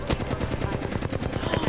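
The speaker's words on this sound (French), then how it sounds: "Désolé, il me tire dessus." Rapid automatic gunfire in Apex Legends, a fast even stream of sharp close shots firing steadily for nearly two seconds without a pause.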